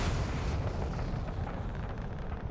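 Gunfire and blasts in the Starfield video game, heard as a dense, continuous rumble of shots and explosions.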